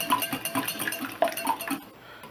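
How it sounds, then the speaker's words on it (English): A whisk beats eggs in a bowl, rapid rhythmic metallic clinks and taps against the sides, close and fairly loud, tapering off near the end with no voices. "we're gonna beat these well before we add anything else. Whisk comes in handy here again"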